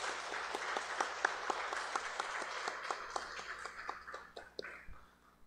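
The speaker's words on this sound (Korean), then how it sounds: "우리 다시 한번 박수로 축복해 드릴까요?" A church congregation applauds in a steady, moderately loud patter of many hands, slightly distant and reverberant, tapering toward the end.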